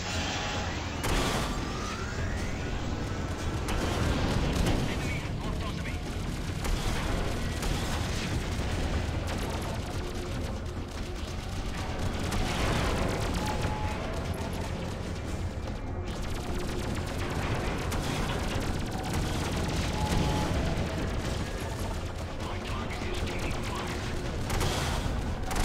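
Rapid spaceship weapon fire in the space combat game Freelancer, a dense continuous barrage of shots and impacts with booming hits running through the whole stretch, loud and busy throughout.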